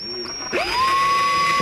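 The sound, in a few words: power drill drilling into arrow blank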